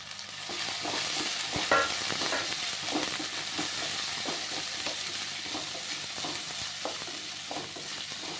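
Dried red chilies and curry leaves fry in hot oil in a pan for semiya upma, giving a steady, close sizzle with repeated scraping and stirring taps throughout.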